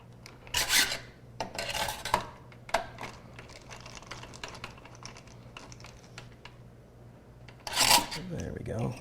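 Screws are tightened by hand on a computer build, with bursts of clicking, scraping turns and light clatter at close range and quieter rustling between them.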